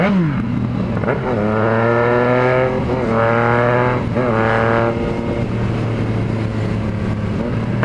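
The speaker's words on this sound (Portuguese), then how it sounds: "A melodia desse escape, velho." Car exhaust roaring as the engine revs up and down in repeated rising and falling sweeps, loud and close, with a steady idle drone underneath and no talk.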